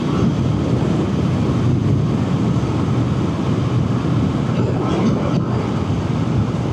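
A 2025 Triumph Speed Twin 1200 RS motorcycle is ridden at speed while shifting up through the gears with the quick shifter. Engine drone and wind buffeting are loud, dense and steady, with no gaps and no voice.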